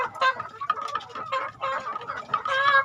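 Chickens eat feed and cluck in quick, uneven bursts, close and fairly loud, with several birds overlapping and no talk over them.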